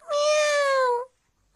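A cartoon cat from a Doraemon episode gives one loud, drawn-out meow of about a second, followed by near silence.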